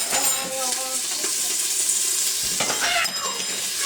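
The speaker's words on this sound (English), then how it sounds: "just going to take one piece of meat here and just listen to this sizzle" Beef sizzling in a hot pan, a steady crackling hiss with brief clinks and stirring noises over it, close and fairly loud.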